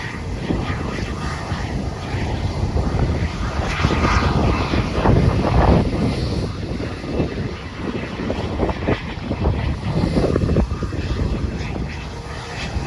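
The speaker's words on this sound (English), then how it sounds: "Yeah, it's a private jet." A private jet at Bluegrass Regional Airport in Lexington, Kentucky, its engines roaring steadily and loudly throughout, with someone talking nearby.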